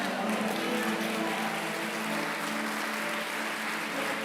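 A church congregation applauds in worship, producing steady, dense clapping that fills the room at moderate loudness from start to finish, with faint voices mixed in.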